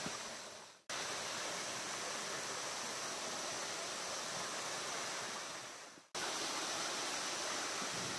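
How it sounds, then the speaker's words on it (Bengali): Steady, roaring rush of Lepcha Falls close by, loud and continuous, with two brief dropouts where the sound cuts and returns. "আওয়াজ তো পাওয়াই যাচ্ছে ফলসে"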